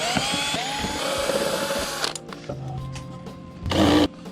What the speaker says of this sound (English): I'm gonna take off some of the screws here so I can get the full panel off.